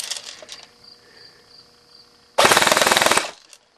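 An airsoft FN gun fires a rapid full-auto burst lasting under a second, loud and close, after a quieter stretch of faint mechanical clicks and hum.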